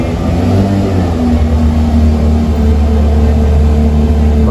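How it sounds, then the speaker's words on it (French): Loud, close, steady engine drone from a Porsche 911 GT3 of the 992 generation on a Monaco street, a sustained mid-pitched roar with no talking over it. "Petite Porsche GT3."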